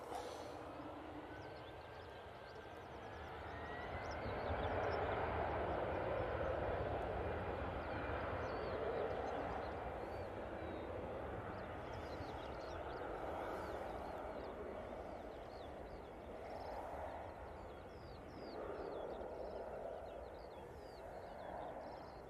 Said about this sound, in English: This Easyjet is off to Belfast. It's an A320-200.